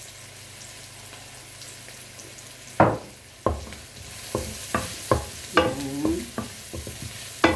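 Onions browning in a pan, with a steady low sizzle under a series of sharp spatula scrapes and knocks that grow more frequent, some close and loud.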